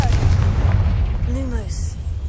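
A Confringo fire spell goes off in the game Hogwarts Legacy as a deep, sustained low rumble with faint whistling, whooshing tones gliding over it and no single sharp blast.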